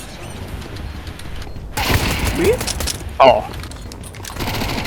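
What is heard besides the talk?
gunfire in a video game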